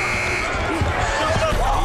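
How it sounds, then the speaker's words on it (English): Buzzer horn sounding at a 2007 NCAA tournament basketball game between Niagara and Kansas, a sustained tone over crowd noise and arena hubbub, with play-by-play commentary running on top throughout. "as you can hear the horn in the background"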